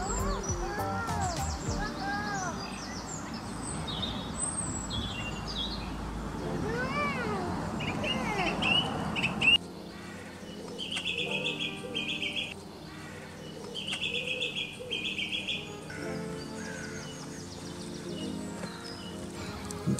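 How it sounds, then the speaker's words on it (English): Small birds chirp and call in a town park in Tullamore, Ireland, in repeated short bright bursts over a steady outdoor background, fairly near and moderate in level. "These lovely birds here."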